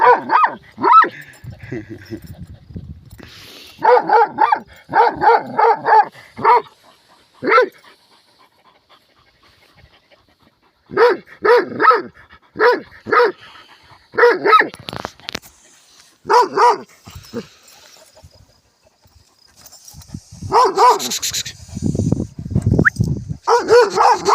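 A dog barks in short bursts and repeated clusters, close by, with panting and a few yips between, plus scattered voices.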